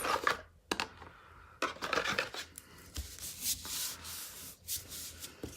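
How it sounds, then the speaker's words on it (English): Paper being rubbed down by hand onto a piece of Daffodil Delight cardstock in a card-making craft session, with several close, scratchy rubbing strokes broken by short pauses and a few light taps. "we'll just hold this down and rub it down"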